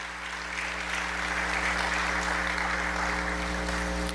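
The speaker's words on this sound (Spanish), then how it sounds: "Sí, apláudale al Señor." A church congregation applauds in praise during a service, with dense, continuous clapping over a steady low hum, holding at an even level throughout.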